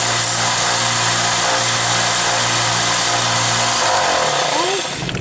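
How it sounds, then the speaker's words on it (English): Vertical belt sander grinding the tip of a silverware jewelry piece, a loud continuous motor whine and abrasive rush, close up, that winds down near the end. "we're going to go back over to the vertical belt sander, and I'm going to remove this little tip here that isn't quite right"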